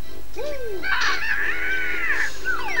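A loud bird cry from the Banjo-Kazooie video game, set in the summer Click Clock Wood level, with rising and falling cawing calls over a steady musical hum.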